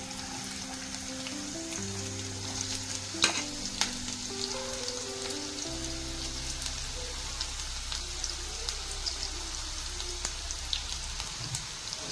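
Chopped onion frying in melted ghee for a chicken ghee roast, a continuous close crackling sizzle with a few sharp knocks of a utensil, with no talk.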